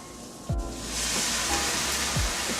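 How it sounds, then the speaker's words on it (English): Liquid poured into a hot pan of toasting food while cooking at home, bursting into a loud, steady broadband sizzle that starts abruptly and holds, with a few faint clinks and no talking. "Sizzle."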